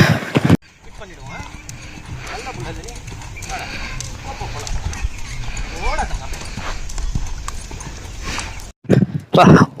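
A young horse clip-clops during one of its first rides. The hoofbeats stay steady and moderately close, and a voice talks over them near the end.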